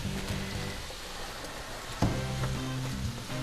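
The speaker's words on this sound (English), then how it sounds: "You just want to brown your ground beef." About 1.5 pounds of ground beef browns in a frying pan with a soft, steady sizzle, punctuated by a single louder clunk of a utensil partway through, quiet and close with no talking.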